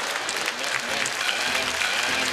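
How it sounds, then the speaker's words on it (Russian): A studio audience applauds at a Ukrainian comedy show, a dense, steady wash of clapping that fills the whole moment without a break. "Ваши аплодисменты."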